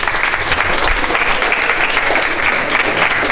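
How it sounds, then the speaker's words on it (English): Audience applause in a lecture hall for a woman from the crowd after she receives a mouse pad and keyring prize, steady dense clapping filling the room throughout. "An applause for the lady."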